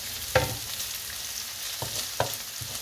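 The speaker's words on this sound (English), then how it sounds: "I'll give the onions a quick stir" Onions sautéing in a pan with a steady sizzle, broken by a few sharp scraping strokes as they are stirred, close and fairly quiet.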